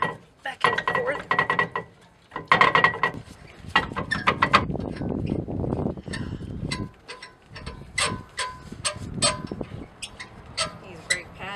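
Brake pads being shaken loose from an R1 brake caliper give off close, irregular bursts of metallic rattling and clinking, stopping and starting with short pauses between them.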